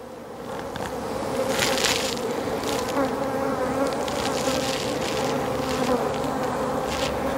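Calm honeybees buzz at an open hive during a split to make a swarm, a dense continuous hum heard up close with a few louder buzzes from single bees passing near.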